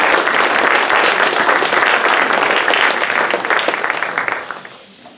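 An audience claps steadily to welcome two speakers at a public talk on journalism and democracy, loud and sustained before tapering off at the end.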